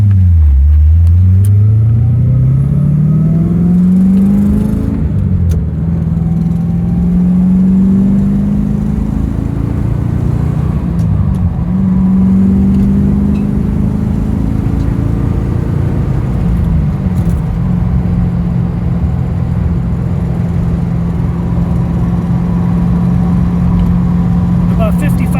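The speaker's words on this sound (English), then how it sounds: "More acceleration while we're still running and maintaining pretty good temperature." A 1969 Chevrolet Corvette engine pulls steadily while driving at highway speed, its drone rising in pitch through several upshifts and then holding a constant loud hum, heard from inside the car.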